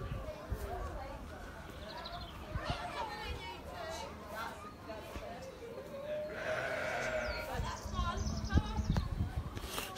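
Goats and llamas in a zoo farm barn, with several goats bleating repeatedly, near and loud, over busy chatter and talking from people nearby.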